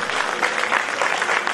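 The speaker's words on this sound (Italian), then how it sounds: "Un applauso." Applause for the children's choir Il Sole dell'Aurora at the AVANI concert for asbestos victims in Broni: a short, close, dense burst of many hands clapping at steady loudness.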